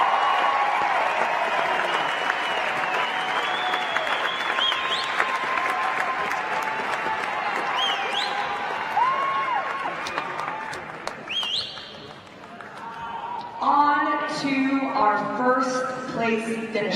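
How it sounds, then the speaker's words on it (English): Sustained applause from a large crowd at an athletics awards ceremony, loud and continuous throughout, with an amplified voice talking over it and music-like tones rising near the end. "I think we should give him a double round of applause."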